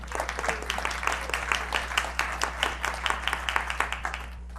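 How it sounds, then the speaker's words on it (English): Applause from a conference audience welcoming speakers to a Python data talk, a modest crowd clapping in a brisk, even patter of distinct hand claps over a low steady hum, moderately close and sustained. "So let's give them a round of applause and welcome them."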